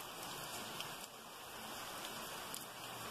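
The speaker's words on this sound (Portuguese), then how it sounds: "É uma chuva bem calma que Deus está mandando, mas está molhando bem a terra." Gentle, steady rain falls on a cloudy day, soaking the ground with a soft continuous patter and hiss throughout, close by and without any talk.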